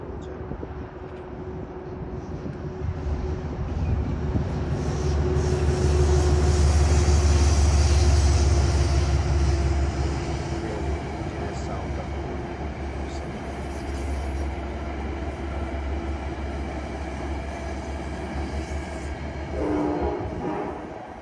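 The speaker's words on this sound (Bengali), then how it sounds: "আর এখানে আরেকটি মেইল ট্রেন দেখতে পাচ্ছি" A mail train in New York rolls past with a loud, sustained rumble and rail noise that swells toward the middle and then holds steady, with a brief tonal sound near the end.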